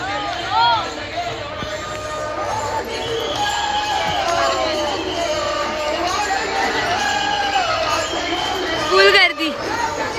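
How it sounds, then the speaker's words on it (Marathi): A huge crowd of pilgrims at the Pandharpur Ashadhi Wari, heading toward the Chandrabhaga river, fills the air with a dense, steady babble of many voices. Sharp knocks and brief cheers rise out of the constant hubbub. "गर्दी बघा केवढी"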